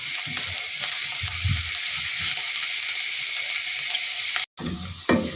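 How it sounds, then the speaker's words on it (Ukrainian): Chopped onion fries lightly in a pan with a steady, close sizzle that holds throughout, broken by a brief cut near the end; no one speaks. "І ставлю, хай підсмажиться трошки, так, легесенько, не дуже."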